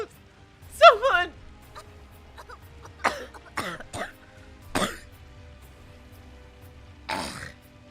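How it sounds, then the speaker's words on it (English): Several separate coughs and throat-clearing bursts, a sharp one early then a cluster of shorter hacks spaced out with quiet gaps, close and fairly loud. "I get to use my coughs as part of the story."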